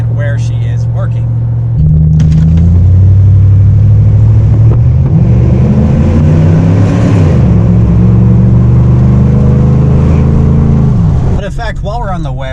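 A 2007 Chevrolet Silverado truck with a Superchips performance tune drives along. Its engine drones loud and close inside the cab, rising and shifting in pitch as it accelerates, then settles near the end, where a voice speaks briefly.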